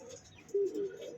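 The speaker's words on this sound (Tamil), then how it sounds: "பறந்த புறா தான், ரெண்டுமே பறந்த புறா தான்" A flown racing pigeon gives a brief, soft coo against a faint, quiet background.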